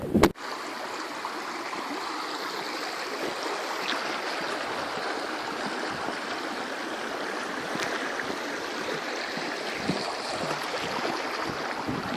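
River water rushes over rocks near Shepherds Lookout in a steady, full-bodied wash that continues without break. A brief knock is heard at the very start, and no one speaks.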